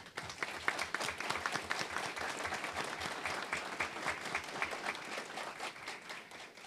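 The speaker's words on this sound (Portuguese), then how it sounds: "a todos eles a nossa salva de palmas" Audience applause at a legal seminar on parliamentary immunity held in a state legislature hall, a steady crowd ovation of many clapping hands heard from a distance, even and sustained for several seconds.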